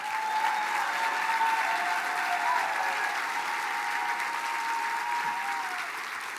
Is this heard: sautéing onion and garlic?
no